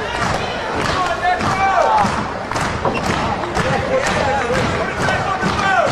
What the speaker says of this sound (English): the fans start clapping to try to get him hyped up